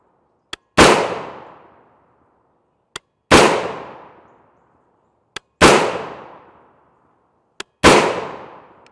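Four loud rifle shots from 5.56x45mm 55gr FMJ M193 Winchester ammunition, fired at a steady interval of a little over two seconds, each a sharp crack with a long decaying tail and a faint click just before it.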